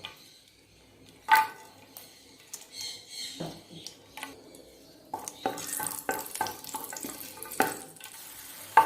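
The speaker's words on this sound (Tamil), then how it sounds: "நெய் சூடானதும் நம்ம எடுத்து வச்சுருக்கிற முந்திரி திராட்சையை வறுத்து எடுத்துக்கலாம்." Cashews and raisins roasting in hot ghee for semiya payasam: quiet stretches broken by irregular bursts of stirring clatter and crackling sizzle that grow busier and denser toward the end.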